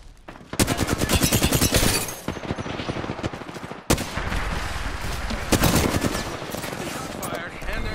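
Automatic gunfire in the video game Apex Legends, dense rapid bursts of shots with a short pause midway, loud and close, continuing in heavy fusillades.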